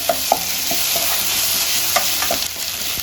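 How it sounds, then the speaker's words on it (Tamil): A spoon stirs ginger garlic paste into browned onions in a hot pan, giving steady sizzling frying with repeated scraping strokes at close range; no talking. "ஒரு 30 to 40 seconds இப்படி நல்லா கிண்டி விட்டுக்கோங்க."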